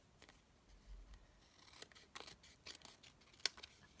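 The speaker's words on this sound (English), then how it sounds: "I'm just going to take some paper snips and I'm going to trim off that excess." Paper snips trimming excess cardstock while making a rainbow and zebra greeting card, a few quiet crisp snips at close range, one sharper cut near the end, no talking.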